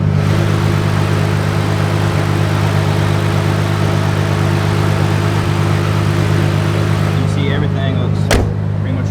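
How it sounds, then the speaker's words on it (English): A Nissan 370Z fitted with a swapped-in 2013 engine idles steadily through its exhaust, a loud, constant low drone that holds unchanged for the whole stretch, with only a brief disturbance near the end. "Exhaust sounds so good on this thing."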